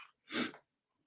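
A single short, sharp sneeze bursts out, close and fairly loud, then quiet.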